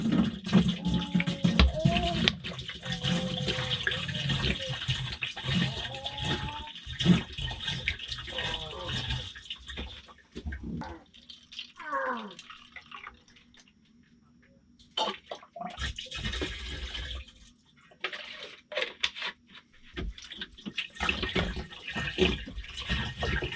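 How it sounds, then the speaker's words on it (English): Bottled water glugs and splashes into a caravan's portable toilet in bursts, with a quiet gap before the pouring resumes, mixed with handling clatter and someone talking nearby. "And then I put in 2 of these bottles of water."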